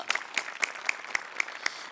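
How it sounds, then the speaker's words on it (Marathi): Applause from a live studio audience at a Marathi comedy sketch show, heard as regular sharp bursts of clapping about every quarter second, fairly faint and with no voices over it. "वा वा वा, जोरदार टाळ्या"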